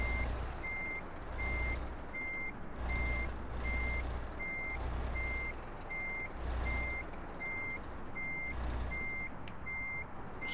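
A truck reversing in Euro Truck Simulator 2 sends out a regular series of loud, evenly spaced backup beeps over a low, pulsing diesel engine idle, about a dozen beeps in steady rhythm.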